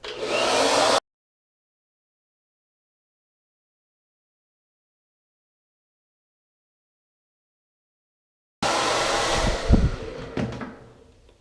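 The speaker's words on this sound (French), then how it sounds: "vous n'en reviendrez pas à quel point vous allez couper votre temps de séchage avec un tel séchoir" A hair dryer blasting at close range while drying an undercut hairstyle: a loud, steady whoosh for about a second, then a long silence, then the roaring airflow returns with some handling bumps near the end.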